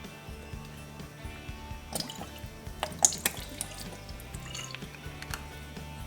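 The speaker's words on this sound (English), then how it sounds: "We're going to add a little bit of Worcestershire." Worcestershire sauce dripping and splashing into a pot of beef stew, a few soft liquid drips and small splats over faint kitchen background noise.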